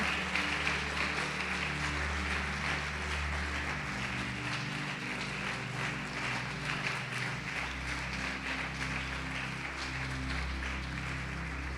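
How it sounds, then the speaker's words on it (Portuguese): Church congregation applauding during a Portuguese-language evening worship service, a steady wash of clapping across the whole stretch with low instrumental hum underneath, fairly quiet and distant. "Pode aplaudir o Senhor Jesus e glorificar."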